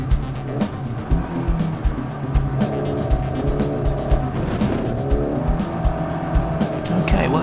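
A Mini race car driving a circuit and running over rumble strips, with a loud engine drone and rapid drumming vibration as the tyres hit the kerbs, heard up close from the car throughout.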